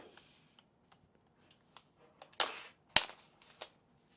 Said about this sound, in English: So this is the Magic Keyboard. Unwrap it.